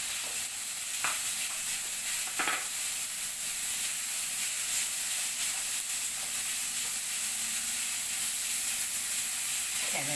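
Tomatoes sizzle in hot oil with onions browned to pink, a steady bright frying hiss filling the background, with a few faint clinks of stirring while cooking dhaba-style lasuni methi.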